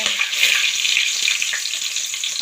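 Onion and curry leaves added to hot oil with fennel seeds and cinnamon for a chicken gravy, a loud, dense, continuous close sizzle with no talk.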